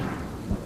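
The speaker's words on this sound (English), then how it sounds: "The storm that swept through Brisbane, concentrating itself on Woolloongabba and on the cricket ground." Thunderstorm sweeping over the Woolloongabba cricket ground in Brisbane, a brief low rumble of thunder with rain hiss.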